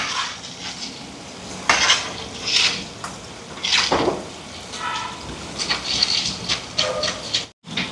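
Salt and curry spice powder are stirred into a coconut milk fish gravy. A spoon clinks and scrapes against the pot in irregular bursts over a soft liquid swish, close by, with no voices.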